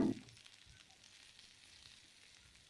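Green chillies, tomato and a ground paste of cumin, ginger, dried chilli, pepper and coriander sizzle in a frying pan for a cauliflower and soybean curry, giving a soft, steady hiss after a brief louder start.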